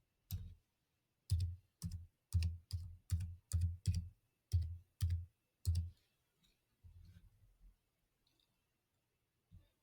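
About a dozen distinct key presses on a computer keyboard, close and evenly spaced, followed by a few softer clicks and taps in an otherwise quiet room.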